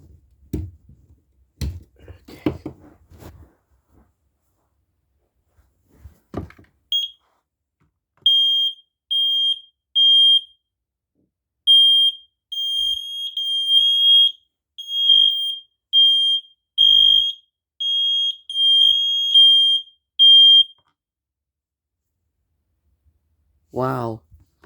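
Smoke alarms from a combined smoke alarm and exit sign system go off during a system test, a loud, high electronic beep repeating in short bursts with gaps, after some brief handling noise at the start.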